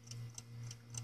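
Mechanical ticking from a music box alarm clock, likely a one-day movement in need of cleaning, with four evenly spaced soft ticks over a steady low hum, fairly quiet and close.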